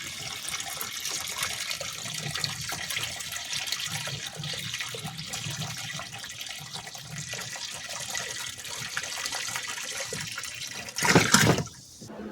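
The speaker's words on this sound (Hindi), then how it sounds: "समरसीबल चला के न मैं फिर पानी भर दूंगी और मशीन चला दूंगी" Water pouring steadily into a washing machine tub, filled from a submersible pump in a village home, a continuous rushing splash throughout, with a brief louder gush near the end.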